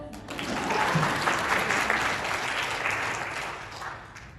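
An audience at a business talk breaks into applause, a full, even roar of clapping that swells and then gradually thins out over a few seconds.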